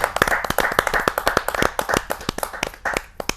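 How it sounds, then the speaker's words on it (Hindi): An audience at a kavi sammelan claps to welcome a poet, dense and steady applause heard close for a few seconds. "जोरदार ताली के साथ हम उनका स्वागत करते हैं"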